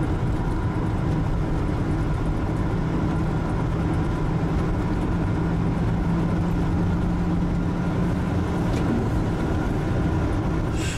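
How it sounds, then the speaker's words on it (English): The engine of an old campervan warming up, a steady low idling rumble that runs on without change for the whole stretch, with no talking. "I'll give the old motor a little bit of a warm-up"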